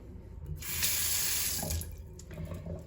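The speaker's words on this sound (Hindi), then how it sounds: "कुछ गर्म ठंडा पानी दोनों आते हैं इधर से" A hotel bathroom sink tap opens and water runs in a steady close rush for about a second, then is shut off, with faint movement noises around it.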